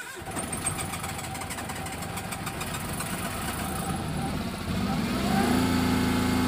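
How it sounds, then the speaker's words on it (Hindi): A car started without its key settles into a steady, rumbling idle, close and continuous, with the engine note swelling slightly near the end. "देख सकते हो गाड़ी कम्प्लीटली स्टार्ट है"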